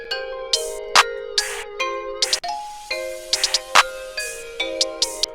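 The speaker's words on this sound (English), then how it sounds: "Bells." Bright bell and chime tones ring out in a steady rhythmic pattern, layered melodic dings repeating like a musical beat, clear and close.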